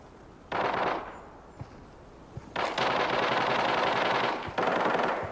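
Gunfire in the shooter game Arena Breakout, from an AR57 rifle: three sustained rapid-fire bursts, loud and close, separated by short quiet gaps with a couple of faint single pops.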